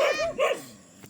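A dog barks twice in quick succession, fairly close, followed by a brief quiet tail.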